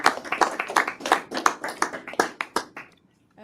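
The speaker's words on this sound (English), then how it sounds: "So I just want to say a round of applause to everyone that made it" Conference attendees clap together in a loose, rhythmic burst of individual hand claps, close and fairly loud, which tapers off and stops after about three seconds.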